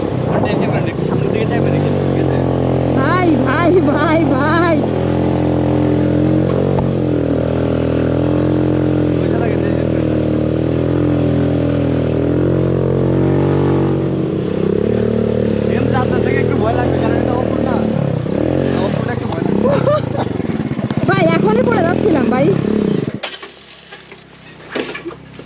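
A motorcycle climbs a steep, dangerous sandy hill road. Its engine drones loudly and steadily, revving up and down under frequent talk, then cuts out near the end.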